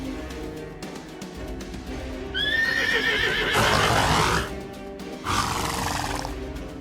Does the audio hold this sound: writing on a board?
no